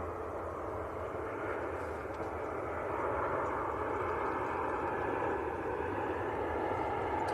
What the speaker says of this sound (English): Maltese registered Ryanair Max in from Madrid.